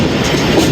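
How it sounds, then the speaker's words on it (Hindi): The Baba Fareed Express passenger train rumbles loudly and steadily along the rails on a branch line near Samasatta Junction, a dense continuous roar close by. "बाबा फरीद एक्सप्रेस 38 डाउन समरसटा जंक्शन पे अप्रोच बना रही है"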